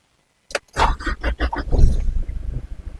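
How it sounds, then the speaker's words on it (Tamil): A Mitsubishi Pajero Sport SUV engine cranks with a few sharp bursts, then catches and settles into a rough, throbbing idle close by. "இந்த வண்டியை ஸ்டார்ட் பண்ணி பார்த்துருவோம் இதோட இன்ஜின் சவுண்டை பாருங்கள்"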